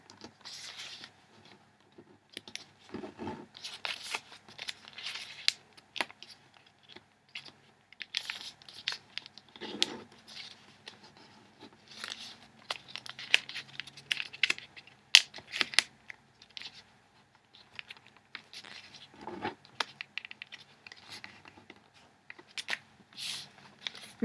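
Paper being folded, creased and flipped while making an origami rose, soft crinkles and rustles in scattered bursts, close and quiet.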